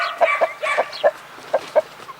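A hen clucks in short repeated bursts, a run of about eight clear, fairly close clucks with uneven gaps, over a faint background of other bird sounds.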